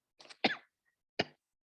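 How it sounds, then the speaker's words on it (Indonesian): A person coughs in a few sharp bursts, a short pair followed by a single louder cough after a pause, close and dry in a quiet room. "Maaf ya, baru batuk."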